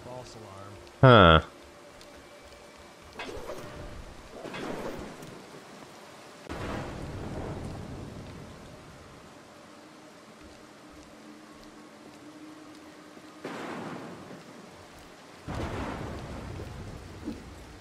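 Thunderstorm in the stealth game Mark of the Ninja: a sharp crack early on, then rolling thunder rumbles that swell and fade at intervals over a low bed of steady rain, with no voices.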